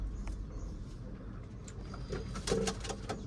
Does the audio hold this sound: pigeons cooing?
yes